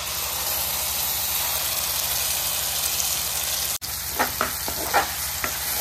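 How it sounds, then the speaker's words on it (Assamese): Paneer gravy fries and sizzles in a pan, a steady close hiss running throughout, briefly cut off near the end and followed by a few scraping stirs. "গ্ৰেভিটো পুৰা ডাঠকৈ ভাজি লৈছোঁ"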